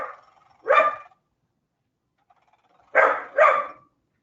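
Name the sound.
puppy barking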